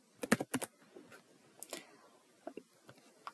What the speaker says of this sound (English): Here we will type our email address